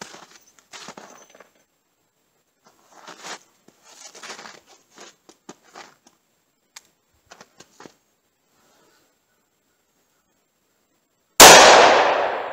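A single loud, sharp revolver shot fired with Federal American Eagle ammunition rings out near the end and decays, after faint scattered handling clicks and near silence.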